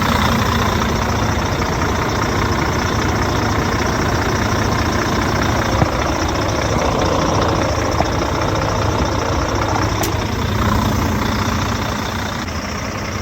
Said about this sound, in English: Got the truck running just to, you know,